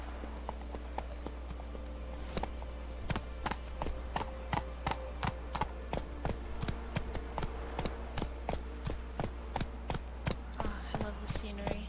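Horse hooves clip-clop steadily in The Witcher 3 video game, a regular, close rhythm of sharp clops running throughout over a low ambient hum.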